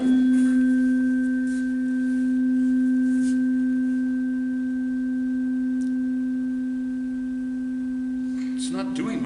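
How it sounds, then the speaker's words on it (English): Two struck tones of nearly the same pitch, like tuning forks in a physics demonstration, ring together as a steady pure hum whose loudness slowly swells and fades in beats. Faint knocks come near the end. "you see very pronounced beats where the sound almost drops to 0 and then comes back up"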